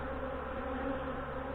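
Honey bees from a queenless hive humming in a dense, steady drone, close and even, with no breaks or voices over it.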